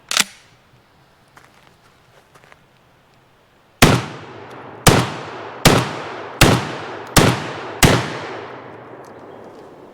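A Benelli semi-automatic combat shotgun fires its last six rounds outdoors, each blast loud and close with a long decaying echo, spaced roughly a second apart after a single earlier shot and some quiet handling.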